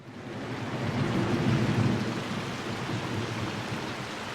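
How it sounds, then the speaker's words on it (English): Steady rain falling with a low rumble of thunder swelling in the middle, continuous and fairly soft, no voices. "we were lulled to sleep by the rain and a cozy fireplace"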